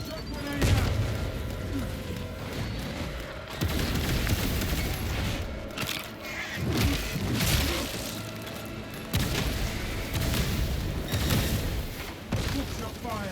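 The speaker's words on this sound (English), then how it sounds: "Shock grenade out!" Bursts of gunfire and heavy booms from shock grenades in the video game Space Marine 2, coming in several loud waves with short gaps, mixed with mechanical clatter and distant voices.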